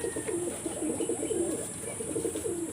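A Chennai breed pigeon coos in a loft, repeated soft, throaty rolling calls heard close and continuous over steady background hiss.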